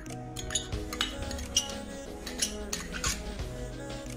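A spoon clinks and scrapes against a bowl as flour batter is mixed with turmeric, onion, coriander and spice paste, giving close, repeated metallic knocks in an uneven rhythm with a faint hum underneath.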